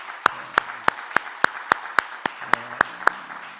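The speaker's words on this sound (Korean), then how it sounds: "박수 한번 드릴까요?" A church congregation claps together in a steady, even beat, about a dozen crisp claps in a row with no voices over them.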